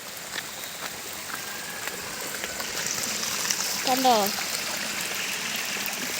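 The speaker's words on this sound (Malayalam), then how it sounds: "എന്നാലും നല്ല സ്പീഡിലൊക്കെ വെള്ളം ഒഴുകുന്നുണ്ട്" Water rushes fast along a shallow canal in a steady, close, hissing flow, with a short spoken word partway through.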